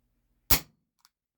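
A single shot from an airsoft gun firing a 4.5mm .13g BB, one sharp loud crack that fades quickly, followed by a tiny faint click.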